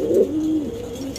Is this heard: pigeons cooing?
yes